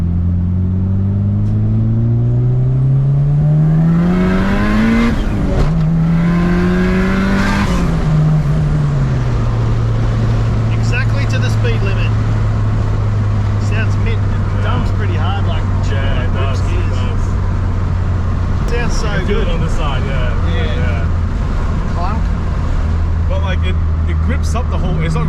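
A turbocharged B18C Honda Integra revving hard on the street, heard from inside: engine pitch climbs steeply through gears with sharp drops at each shift, then settles into a loud, steady drone with road roar. Voices talk over the later part.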